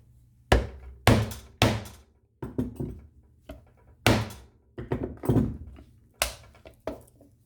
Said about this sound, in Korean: 망치 소리가 좀 납니다